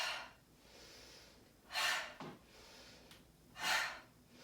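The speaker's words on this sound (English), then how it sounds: "So we'll inhale, reach, exhale, pull, inhale, exhale." Deep breathing during a yoga class, with two long, loud, close breaths about two seconds apart, a softer sniff between them and quiet room tone around them.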